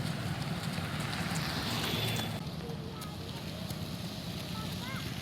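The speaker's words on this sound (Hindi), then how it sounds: "तेज आंधी बारिश के साथ बारिश हो रही है" Heavy rain pours during a storm in Chhattisgarh, a dense, steady hiss of water that drops slightly in intensity partway through, with no clear voices.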